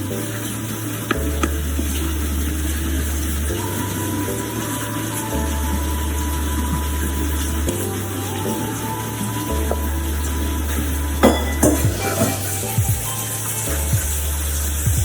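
Cornbread batter sizzles in a very hot cast iron skillet, a steady close frying hiss over a low droning hum, with a few louder scraping clatters near the end.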